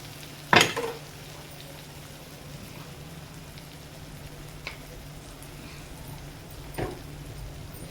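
Ginger garlic paste hits a pan of softened tomatoes with a loud spoon clatter, followed by a steady low sizzle and a few faint scrapes as it cooks.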